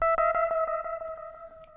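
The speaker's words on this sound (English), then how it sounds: "Reverb sets the amount of reverb applied." A synthesized tone through an echo effect pulses in quick, evenly spaced repeats that smear into a lingering reverberant tail, each hit washing into the next.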